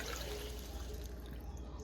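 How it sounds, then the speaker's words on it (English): Hot water pours steadily into a pot of Dominican fish broth, a soft continuous splashing and trickling heard faintly and close throughout. "Okay, so next I'm going to go in with some hot water."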